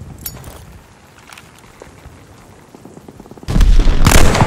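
A grenade blast in Call of Duty: Vanguard goes off suddenly after a stretch of quieter game noise, a loud, heavy boom that rumbles on through the final second.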